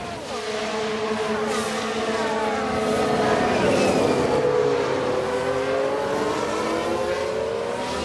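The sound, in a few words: Ferrari F1 race car engine in F1 Manager 22 video game replay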